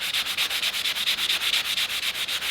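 Steady rhythmic rubbing of a sanding pad over a hard plastic Boba Fett helmet, quick back-and-forth strokes, close and continuous with no talk.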